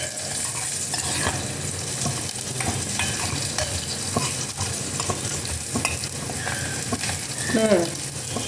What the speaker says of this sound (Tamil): பெருங்காயமும் பொரிஞ்சு கொடுத்து பாருங்கள். எண்ணெயிலே பொரிஞ்சதுன்னா ஈஸியாக கரைஞ்சிரும்.